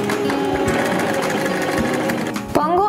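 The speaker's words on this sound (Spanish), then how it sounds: "Voy a apretar el pedal para realizar puntadas que lo aseguren." A Janome 523H sewing machine stitches over a button at narrow width, running in a fast, continuous mechanical whir close to the mic before pausing briefly near the end.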